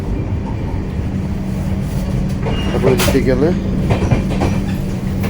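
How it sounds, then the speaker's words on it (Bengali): Duronto Express coach running from Kolkata to Delhi: a steady, loud rumble of wheels on track with a faint rhythmic clatter, while a voice speaks briefly in the middle. "আমাদের ট্রেন ছুটে চলছে"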